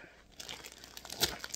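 A plastic package bag crinkles as it is opened, a short burst of close, crisp rustling with a sharper crunch near the end.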